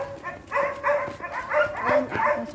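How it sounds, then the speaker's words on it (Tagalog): A mother dog with puppies gives about five bow-wow barks in an uneven rhythm, fairly close and clear. "May anak ang aso."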